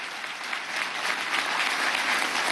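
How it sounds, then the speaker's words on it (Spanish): A crowd at a Venezuelan government event applauds special operations groups with steady, dense clapping that swells slightly over a couple of seconds, with no talk over it. "Vamos a dar un aplauso a los grupos de operaciones especiales."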